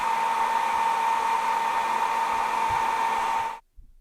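Heat gun blowing hot air onto glued armor on a Mythic Legions figure, a steady close whooshing roar with a hum that runs for about three and a half seconds and then cuts off.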